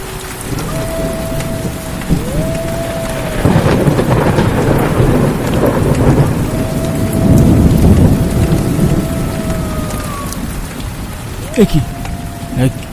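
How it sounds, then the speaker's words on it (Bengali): Heavy rain pours steadily with rolling thunder as a horror story sound effect, a dense loud wash under a narrating voice, with occasional tonal swoops laid over it. "অঝোর বৃষ্টি শুরু হয়ে গেল"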